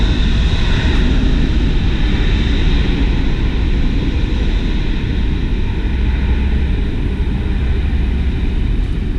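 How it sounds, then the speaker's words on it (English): An American Airlines airliner lands at Heathrow Airport, its engines giving a loud, steady, broadband roar close by that holds level throughout with no pauses and no talk. "That's the American Airlines just land."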